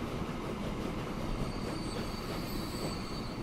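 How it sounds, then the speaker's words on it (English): A freight train in Transport Fever 2 rolling in to a station to load construction materials, a loud steady rumble of wheels and cars with thin high squealing overtones, close and continuous. "Here comes train 3 in to pick up the construction materials."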